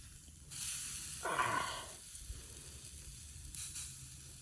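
Food sizzles on a swinging bushcraft grill set over an open fire, a quiet hiss that swells into a brief louder sizzle as it is flipped, then fades back to faint crackle, with no voices.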